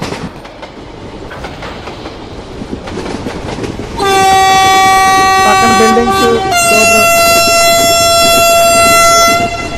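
An Indian train on the Visakhapatnam route in Trainz Simulator rumbles steadily, then sounds a loud, sustained two-tone horn that holds for several seconds and shifts pitch partway through.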